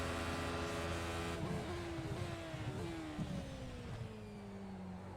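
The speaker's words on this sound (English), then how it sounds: "Revving it all the way out." Race car with a motorbike-derived engine of about 300 horsepower in the iRacing sim, revving hard through gears with rising whines and brief shift breaks, steady and close under the commentary.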